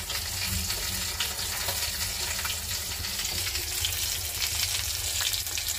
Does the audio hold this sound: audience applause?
no